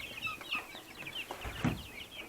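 Young chicks, including Brahma chicks, cheep and peep in rapid high chirps, with a few lower clucks mixed in, close by in a small farm enclosure.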